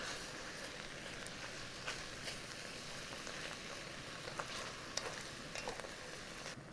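Beef for Hungarian goulash sears in a hot pot with a faint, steady sizzle and scattered small crackles and pops, with no voices.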